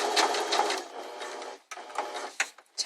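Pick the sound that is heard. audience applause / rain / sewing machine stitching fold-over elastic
sewing machine stitching fold-over elastic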